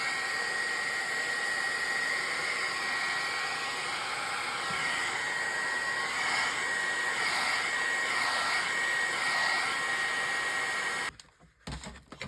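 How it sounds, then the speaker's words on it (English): A heat gun blowing hot air over paint, a steady loud whirring blower roar running continuously with slight swells as it moves closer and back, cutting off near the end. "We're using the heat gun like a paintbrush, and that's how we're manipulating these colors"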